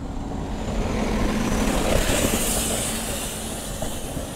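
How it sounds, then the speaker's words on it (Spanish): A city bus (micro) passes along a Huechuraba street by a cycle lane and bus stop, a broad, steady rumble of engine and road noise rising and fading gently over a few seconds with no talk. "Y aquí viene una micro,"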